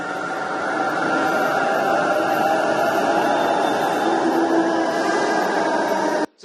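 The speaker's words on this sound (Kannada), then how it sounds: "ಈಗ ಮೊದಲ ಟ್ರೈನ್ ಅಲ್ಲಿ ಇದೀವಿ." Steady loud rumble and hiss fill the cabin of a Namma Metro Yellow Line train in Bengaluru on its first day of service, with a faint tonal whine partway through and a sudden drop-out at the very end.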